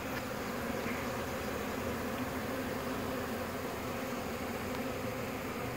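Honey bees fan at the entrance of a very small, depleted colony, giving a steady, dense buzzing hum that fills the whole stretch at close range, with no talk.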